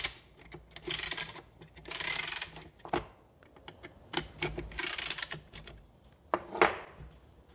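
Piston ring compressor being tightened around a piston for a Ford FE 390 engine build: close, quick bursts of ratcheting clicks with short pauses between them.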